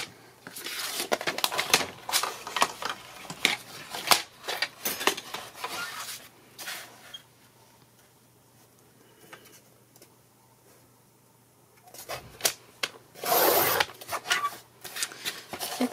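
Scissors cut a sheet of white paper lengthwise for a mini album, giving close, dry snipping and rasping bursts that pause midway and then resume briefly, with no talking.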